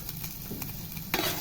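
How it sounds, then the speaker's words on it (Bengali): Capsicum fries in a pan with a steady, moderate sizzle and soft stirring scrapes, with a brief louder stir or toss near the end. "এখানে যে সিমলা মির্চিগুলো নিয়ে আছে সেগুলো দিয়ে দেবো এটার মধ্যে, একটু ভেজে নেবো"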